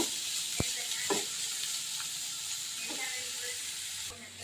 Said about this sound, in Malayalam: അതിനുള്ള പച്ചക്കറി വഴറ്റുക